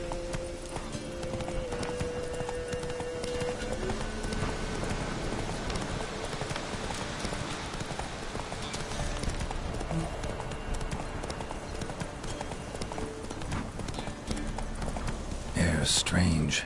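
Roach, Geralt's horse in The Witcher 3, galloping with steady, close clip-clop hoofbeats beneath game ambience, with a voice speaking over it and a brief whinny-like burst near the end.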